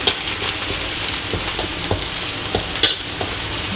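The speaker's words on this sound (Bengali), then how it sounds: "পেঁয়াজ মরিচ কষাচ্ছি, বড়ি দেবো।" Onions and green chillies sizzle and fry in a pan as they are stirred, with a steady close hiss broken by scraping strokes and a few sharper clinks of the utensil.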